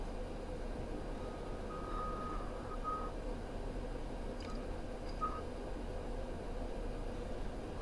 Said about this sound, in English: I'm sorry about the truck beeping.